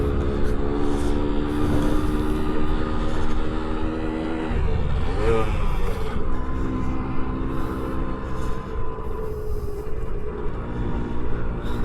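A 1978 Suzuki TS125 two-stroke motorcycle being ridden, a steady buzzing engine note with a gear change and a brief rise in revs midway, continuous and close.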